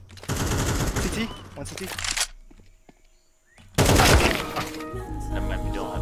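Two loud bursts of rapid automatic gunfire in Counter-Strike 2 are split by a short quiet gap, and players talk over the shooting.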